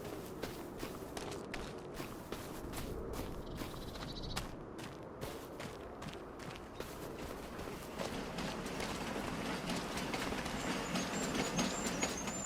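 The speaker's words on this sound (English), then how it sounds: "Here comes the train." A train passes in Farming Simulator 25, a steady rumbling rush with rhythmic clicking building slightly louder toward the end, heard alone without talk.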